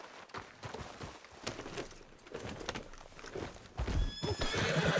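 A horse whinnies in the video game Red Dead Redemption 2, with clopping hooves and busy outdoor background noise, the sound getting louder and fuller toward the end.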